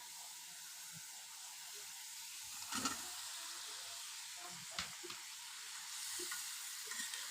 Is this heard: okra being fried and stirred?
yes